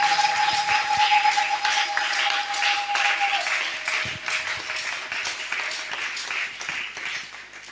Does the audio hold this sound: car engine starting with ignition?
no